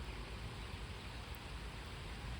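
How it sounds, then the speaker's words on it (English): Faint, steady hiss of rain falling during a storm, an even wash of sound with no voices or other noises. "here comes the rain"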